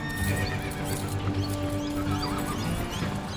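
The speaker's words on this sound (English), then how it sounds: "not only have the horses bolted, they've joined another herd, making them harder to catch" A herd of bolted horses in the Australian outback neighs and whinnies over a dense, continuous clatter of hooves, loud and close with no speech.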